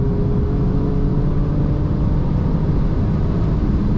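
Ferrari Portofino or Alfa Romeo Giulia, tuned, pulling at full throttle: a loud, steady engine roar with a constant droning tone, close and unbroken throughout.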